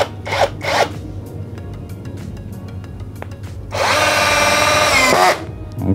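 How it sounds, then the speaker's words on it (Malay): A Keelat 6-in-1 multifunction drill drives a 2-inch screw at torque setting 15 on high speed: short initial spins, then a steady loud whirring run of about 1.5 seconds, close and with no talking. "Kita tengok 15 menggunakan skru 2 inci high speed"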